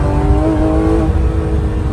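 A Porsche GT3 RS engine pulls hard under acceleration, a loud sustained droning roar with a steady tonal whine held close throughout.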